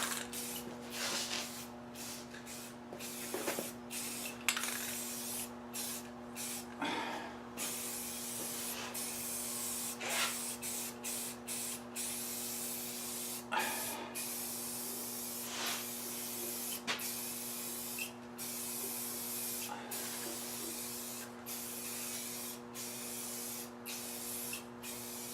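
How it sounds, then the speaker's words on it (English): Spray can of 2X paint hissing onto mini bike parts, a long continuous spray broken by brief gaps and light clicks, close and steady throughout. "I'm gonna have to get a nice coat of paint on the chain guard and stuff."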